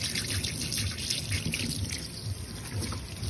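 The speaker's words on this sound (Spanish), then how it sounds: "Le vamos a poner agua fría." Cold water runs from a kitchen tap into a sink to rinse kitchen towels, a steady close splashing trickle with faint dripping throughout, and no one talking.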